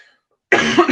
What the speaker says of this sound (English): need to cut my dirty coughs there